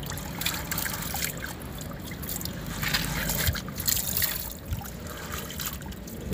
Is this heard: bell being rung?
no